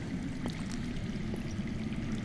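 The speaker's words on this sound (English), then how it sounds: "I hear water. From underground." Water running underground near a possible cave, a steady broadband rushing and trickling flow heard close and continuous, with no talk over it.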